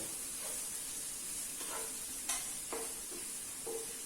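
Onion stewing with carrot in a pot, giving a soft steady sizzle and hiss with a few faint stirring scrapes, quiet and close, with no talking.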